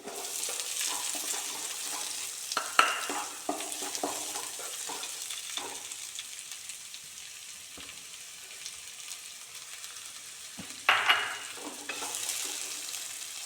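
Chopped shallots sizzle in hot oil in a pan while being stirred for a banana-flower cutlet, a steady frying hiss with louder scraping stir bursts near the start and again later, close and alone.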